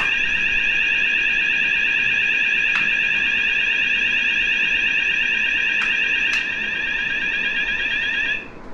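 A loud, steady electronic alarm from a Luminite Alertex wireless lockdown alert system sounds continuously at a high pitch, with a few sharp clicks partway through and a slight drop in level near the end.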